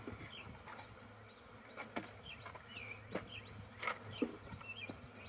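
Honey bees buzz steadily as they are shaken off frames while a beehive is split, a low constant hum with brief louder swells and a few faint bird chirps in the background.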